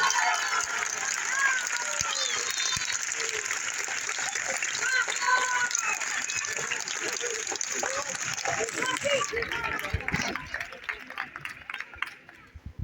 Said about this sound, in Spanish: ¿Queréis más aplausos? ¡Más aplausos, venga!